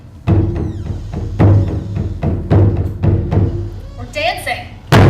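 Taiko drum struck in a steady walking rhythm, about seven deep booming hits spaced roughly evenly, loud and resonant with short decays.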